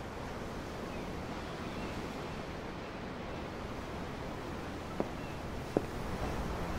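Ocean waves in the video game Tales of Arise, heard from aboard a ship at sea: a steady, soft wash of surf and wind with two faint brief knocks near the end and no speech.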